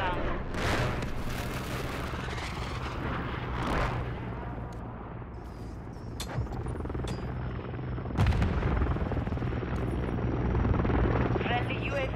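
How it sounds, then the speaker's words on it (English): Helicopter arriving in Call of Duty: Modern Warfare 3 multiplayer, a loud continuous rotor roar mixed with gunfire, booms and explosions, with game voice callouts over the top. "Friendly Overwatch helo inbound."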